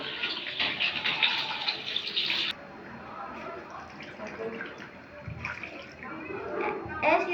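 Water splashes and pours into a container for several seconds, nearby and moderately loud, with people talking in the background.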